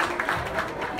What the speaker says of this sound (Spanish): Vamos a brindarles un fuerte aplauso a padrinos, a papás, esta noche.